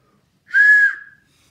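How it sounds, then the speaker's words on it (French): A hand-made ceramic clay whistle piece, pierced with a small needle hole at the back, gives one clear steady tone lasting about half a second that fades quickly, close and alone. "une petite aiguille dans le derrière et ça siffle"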